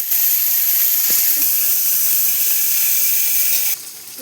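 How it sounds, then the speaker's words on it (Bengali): Dried fish coated in salt and turmeric frying in hot oil, a steady, loud sizzle and hiss that runs without a break and drops to a quieter sizzle near the end. "হলুদ মেখে শুটকি মাছগুলো ভাজার জন্য"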